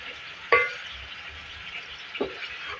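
A spoon stirs onion and yogurt paste into a beef and potato masala in a pot: two distinct scraping strokes against a soft, low sizzle, close and quiet otherwise.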